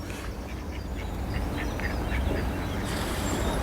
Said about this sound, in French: Regardez un canard.